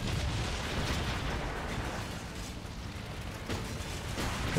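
Heavy booming artillery and explosions from the Blitzkrieg 3 Dunkirk beach defense battle, a dense continuous roar of blasts without pauses and no voices.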